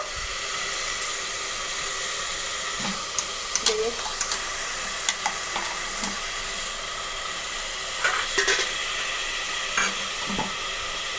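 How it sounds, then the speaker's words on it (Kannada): Onion and tomato frying and being stirred in a pan for a Karnataka-style bitter gourd palya, a steady close sizzle with scattered scraping spoon knocks throughout. "ಟಮಾಟನ ಮಿಕ್ಸ್ ಮಾಡಿ ಚೆನ್ನಾಗಿ ಬೇಯಿಸ್ಬೇಕು"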